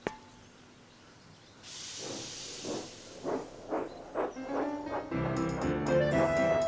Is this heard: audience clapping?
no